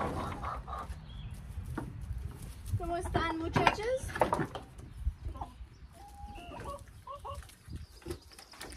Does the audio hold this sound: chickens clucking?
yes